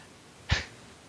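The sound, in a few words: sneeze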